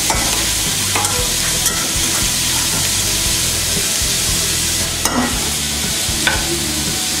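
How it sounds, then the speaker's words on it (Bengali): Carrots frying in hot ghee for carrot halwa, a loud continuous sizzle and hiss with occasional scraping knocks of a spoon stirring the pan, close and with no talk. "ঘি গরম হয়ে এসেছে, এখন আমি গাজরগুলো দিয়ে দিচ্ছি।"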